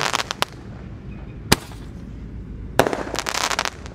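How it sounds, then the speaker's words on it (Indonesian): Many firecrackers and fireworks go off outdoors during a pre-Ramadan ngabuburit celebration in 2026. Loud, sharp bangs come at irregular intervals, then build into a dense, crackling burst of rapid pops near the end. "menyalakan mercon banyak sekali spesial ngabuburit menyambut Ramadan 2026"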